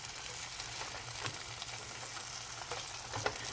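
Thin slices of leftover turkey sizzle on a flamethrower grill, a steady close crackle and hiss with faint pops throughout and no voices.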